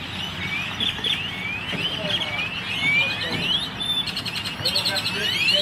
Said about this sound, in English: Like 100 birds.